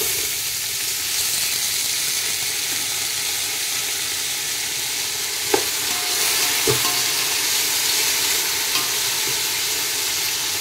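Onions are added to hot oil with garam masala for egg dum biryani and fry with a loud, steady sizzle and hiss, a couple of brief clinks standing out, no voices.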